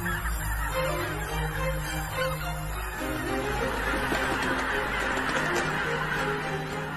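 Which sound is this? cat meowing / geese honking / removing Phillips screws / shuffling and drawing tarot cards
geese honking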